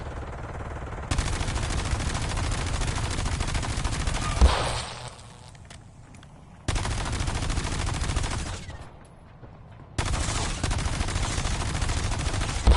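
Rapid video-game gunfire from Black Ops 7 rattles in long, dense sustained bursts, loud and close. Three extended strings of automatic fire are separated by short quieter gaps.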